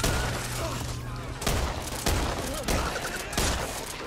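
Gunfire in a violent video game: repeated sharp bursts of shots ring out every half second or so over a dense, noisy battle background, with no voices.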